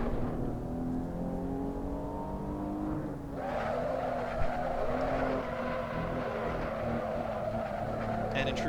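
A Maserati Levante S SUV in the Assetto Corsa racing game, its engine droning steadily with a rising and falling pitch through gear changes, continuous and fairly loud, with no voice over it.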